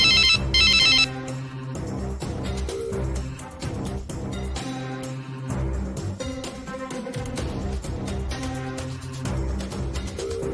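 A telephone rings repeatedly at five in the morning, a loud electronic ringtone that keeps going for about ten seconds over a dense musical backing, with no talking.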